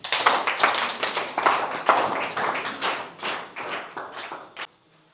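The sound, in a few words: congregation clapping to acclaim the Lord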